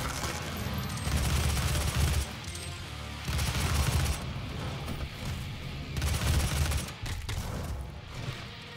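Rockets fired in DOOM 2016, heard as dense, booming volleys of blasts and launcher bursts that come in heavy waves with short dips between them, loud throughout with no talking.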